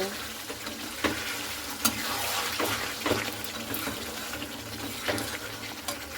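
Chicken and yogurt stirred in a frying pan, a dense wet sizzle under scattered spoon scrapes and knocks against the pan, close and fairly loud.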